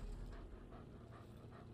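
An injured dog named Lucky in the video game Marvel's Avengers, panting softly and steadily in a quick rhythm of short breaths close by.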